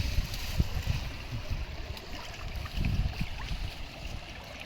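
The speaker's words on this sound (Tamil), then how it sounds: "தண்ணி அடிச்சு காட்டுறேன்" Water splashed by hand in a river stream while hunting for river crabs, giving a steady run of close, wet splashes and gurgles over flowing-water background noise.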